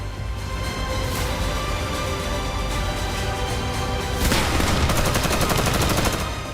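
Celebratory gunfire after the capture of Bakhmut crackles in a loud, dense stream of shots that turns into rapid bursts partway through.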